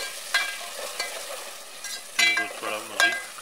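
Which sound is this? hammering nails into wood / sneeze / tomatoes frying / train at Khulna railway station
tomatoes frying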